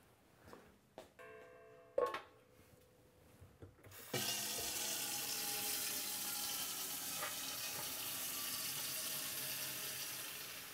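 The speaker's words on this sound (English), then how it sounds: "We're going to go ahead and fill this to 3 gallons" Kitchen sink faucet turned on to fill a homebrew boiling pot with water, preceded by a few clanks and knocks of the pot, then a loud steady rushing stream that continues unbroken.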